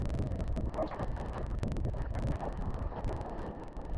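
Strong wind buffets the microphone outdoors at Hood River on a foil trip, a loud continuous rumbling roar with gusty texture and no voices.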